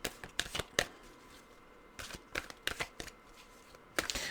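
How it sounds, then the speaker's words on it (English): Tarot cards are shuffled close by in three quick groups of crisp riffling snaps, with short pauses between each group and no talking. "So let's turn to the cards."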